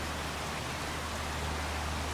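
Steady rain falling in the farming game Farming Simulator 22, a continuous even hiss of drops filling the scene at moderate level with no talk over it.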